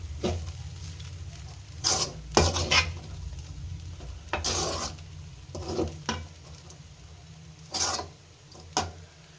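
Veg fried rice with coriander sprinkled over it is stirred in a pan, bursts of spatula scraping and clinking standing out over a steady low sizzle, with no talk.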